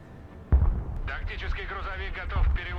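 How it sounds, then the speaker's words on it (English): Short-range, high-powered artillery from a mine-clearing vehicle in the game Broken Arrow, with two heavy booms about two seconds apart under a voice. "These mine-clearing vehicles are interesting. Very short-range, high-powered artillery."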